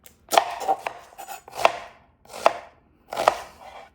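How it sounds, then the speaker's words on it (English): A knife chops a whole onion on a cutting board, giving five crisp thuds at a slow, uneven pace, close and clear with quiet gaps between. "We're gonna chop a whole onion into about medium"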